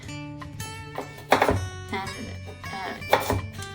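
A knife chopping vegetables for a vegan, gluten-free legume lasagne, with a few dull thunks on a cutting board landing under steady talking.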